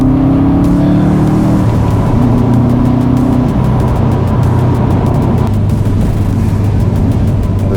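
A Subaru's flat-four engine revs and drones as the car drives, its pitch stepping up and down through the gears, loud and close with steady road noise underneath.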